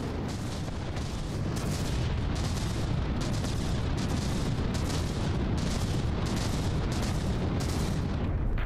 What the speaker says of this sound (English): the Project Broadsword is really providing some good continuous frag damage firepower there